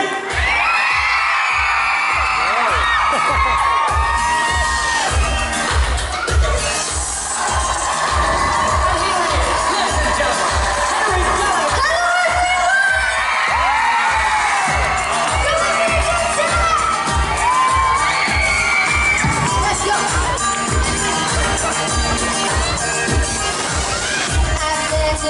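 A live audience at a Blackpool show screams, cheers and whoops continuously in a loud, dense roar, with children shouting among the crowd and rhythmic banging running underneath.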